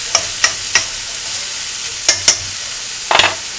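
Chicken frying in a pan for chicken penne with spinach, a steady sizzle broken by several sharp scraping stirs of the utensil, close and alone with no voices.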